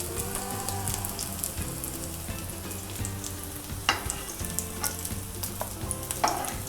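Crispy baby potatoes fry in oil for Cajun potatoes, giving a steady close sizzle with scattered crackles and a few sharper pops and stirring clinks, and no talking.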